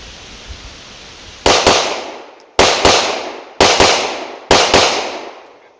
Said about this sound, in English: So I'll see the dot settle back first and then take the shot.